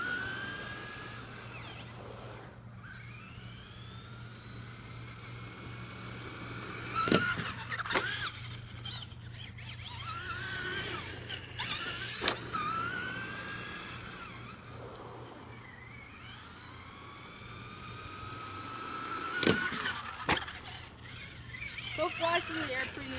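A Traxxas Rustler RC car whines as its electric motor revs up and down in repeated rising and falling sweeps, with sharp bumps from jumps and landings, while someone talks over it.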